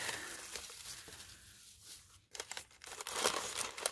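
Shredded paper filling inside a gift box crinkles and rustles softly up close, in a steady patch of crackling followed by livelier, brighter crinkles.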